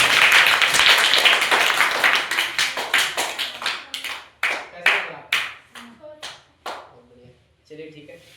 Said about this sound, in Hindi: इस बच्चे के लिए ताली हो जाए।